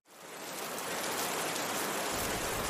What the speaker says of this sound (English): the rains began. It rained and rained without stopping for 40 days.